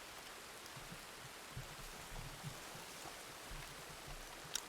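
Steady, faint rain falls as a soft even hiss in a video game, with a few low thumps scattered through it and no talking.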